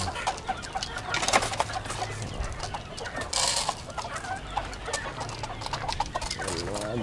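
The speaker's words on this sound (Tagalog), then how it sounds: "Ngayon ay magpapatuka tayo mga kaislaw ng ating mga manok, mga alaga." Backyard chickens, including gamefowl roosters, cluck busily while being fed, with overlapping near and far clucks and chirps and sharp pecking clicks over a steady outdoor background.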